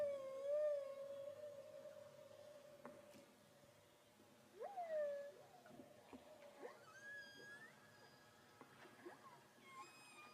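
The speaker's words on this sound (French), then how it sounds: "Il y en a pour 2-3 minutes avec cette captation de son de baleine à bosse." Humpback whale vocalizations in a hydrophone field recording off Moorea: long tonal moans and rising, falling whoops and squeals, overlapping and fairly faint against a steady underwater hiss.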